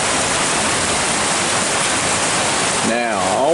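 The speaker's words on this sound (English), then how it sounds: "Now, all we need is for this hail to end" Hail pelting down during a storm in eastern Kentucky, a steady loud hiss of dense impacts throughout, with a brief voice-like warble near the end.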